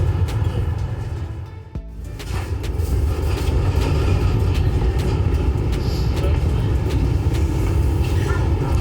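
Steady low rumble and rattling of a moving train in Barcelona heard from inside, with intermittent clicks and clunks, loud and continuous.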